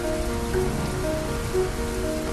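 Heavy rain pours steadily onto a surface at night, a dense continuous hiss with no voices.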